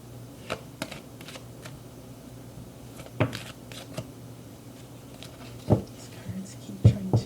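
Tarot cards are shuffled slowly and up close, producing soft papery riffles and scattered sharp card snaps in an otherwise quiet room.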